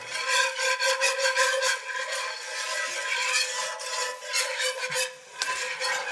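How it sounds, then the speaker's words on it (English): Spoon stirring a thickening flour roux for gravy in a pan, a steady close scraping and rasping rub that continues throughout with small pauses. "Give it a little stir."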